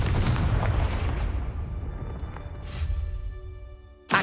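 A Confringo fire spell in the Hogwarts Legacy video game bursts as a loud booming blast that rumbles and fades over a few seconds. A sharp second burst hits at the very end.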